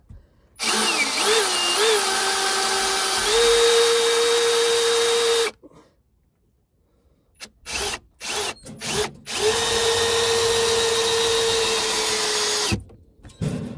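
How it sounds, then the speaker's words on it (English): An 18-volt cordless drill whines loudly in two long sustained bursts driving a screw into undrilled wood, its pitch rising and settling, with a few short trigger blips between them. "But this 18-volt drill just plows."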